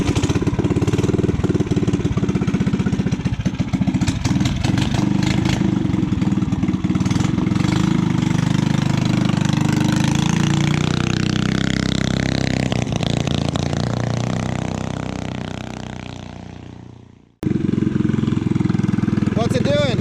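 A Predator 301 engine on a Coleman BT200X minibike fitted with a Mikuni 28mm flat slide carb revs loudly and rough, climbing through a throttle blip before cutting off abruptly, with voices talking over it.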